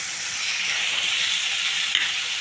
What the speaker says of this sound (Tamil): அந்த தக்காளியை நல்லா வதக்கிக்க போகிறோம்.